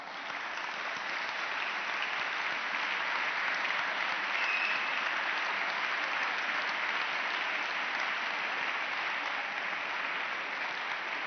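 Sustained, even audience applause fills a hall at a feminist politics panel in Valencia, a steady dense wash of many hands clapping at constant loudness with no voices over it.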